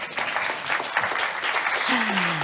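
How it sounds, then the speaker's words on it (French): An audience breaks into a dense, sustained wash of clapping in an event hall that holds steady for several seconds, with a faint rising tone near the end. "je vous propose de faire un tonnerre d'applaudissements pour le couple Herzog"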